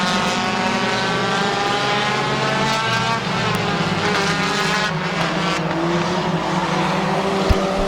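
Race cars at Midvale Speedway roar continuously in a dense, sustained engine drone with shifting pitch as the pack passes, loud and close, with no one talking.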